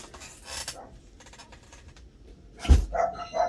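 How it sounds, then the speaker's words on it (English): A couple of puppy barks ring out from outside, somewhat distant and muffled, separated by quiet pauses with faint background rustling. "nope, you hear the puppies."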